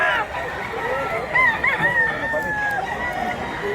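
A rooster crows once in a long, wavering call lasting a couple of seconds, fairly close and loud, with faint background noise around it.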